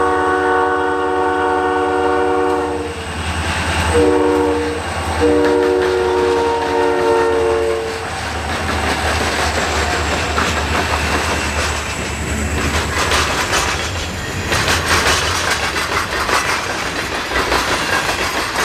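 Freight train pulled by three vintage SD40 locomotives, a loud horn sounding in several long blasts early, then heavy rumble and clatter of cars rolling past close by, with no voices.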